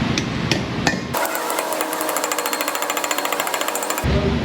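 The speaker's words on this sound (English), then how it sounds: "I'm gonna get something to hammer it in here" Repeated hammer blows drive a new pre-lubricated seal into place on a Ford E350 front spindle, a rapid, steady series of close metallic taps lasting about three seconds, preceded by a few separate knocks.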